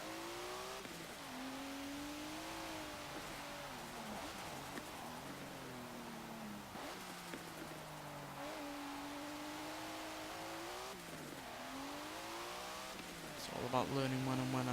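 A 1992 Mitsubishi Galant VR-4 engine in Forza Motorsport 7 revs and shifts repeatedly, rising and falling in pitch across gear changes, loud and continuous with a burst of tyre noise near the end.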